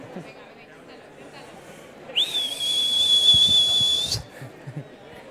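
A single sustained whistled tone, clear and fairly close, holding steady for about two seconds before stopping.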